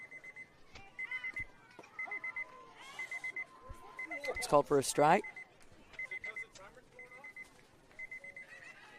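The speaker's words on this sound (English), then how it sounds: "Is that the game timer, maybe?" Short electronic beeps from a game timer at a youth baseball game repeat in regular bursts throughout, with crowd cheering and an announcer talking over them.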